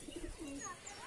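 Pigeons coo softly amid low bird chatter while being fed, faint and close, with a few brief chirps overhead.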